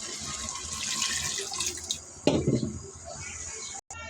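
Water is poured from a tap into a cooking pot for a runny egg curry, giving a close, splashing gush that builds and then cuts off after a few seconds.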